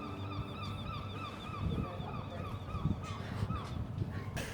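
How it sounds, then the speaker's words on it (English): A seagull at a train station gives repeated honking, squawking calls in a steady series, fairly close, over low background rumble and scattered knocks. "There's a seagull as well."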